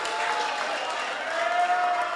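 Crowd applause at a Mombasa by-election campaign rally, a continuous wash of clapping and crowd noise from a large gathering, fairly loud and even with no distinct speech over it.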